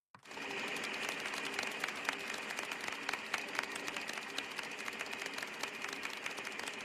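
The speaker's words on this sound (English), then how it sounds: "Keep clapping." Studio audience applause on a cartoon game show, a dense, steady wash of many hands clapping that holds at an even, fairly loud level throughout.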